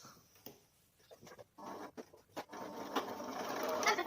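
Sewing machine stitching pinned costume pieces onto a clown bodice, running in short bursts that build into a steadier, louder whir toward the end, close by with no talking.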